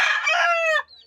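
A gold rooster from a farm in Basilan lets out a loud close crow that stops abruptly, followed by a brief quieter cluck.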